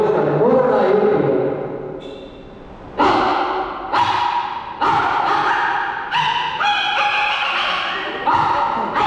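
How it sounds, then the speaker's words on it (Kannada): Three dogs squabble over food at an outdoor camp, with a run of sharp, close barks and yips broken by thumps and snorts as they scuffle, the loudest bursts coming in quick clusters. "3 ನಾಯಿ ಒಟ್ಟಿಗೆ ಹೊರಗೆ ಬಂದಿದೆ. ಆ ತಿಂಡಿ ತಿನ್ಲಿಕ್ಕೆ ಈಗ ಗಲಾಟೆ ಮಾಡ್ತಾ ಇದ್ದಾರೆ"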